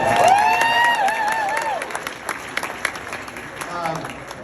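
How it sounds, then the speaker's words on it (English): Wedding guests clap and cheer after a toast to the newlyweds, with a tonal whoop or sung shout at the start and voices mixed into the scattered clapping that thins out toward the end. "Can we get a round of applause?"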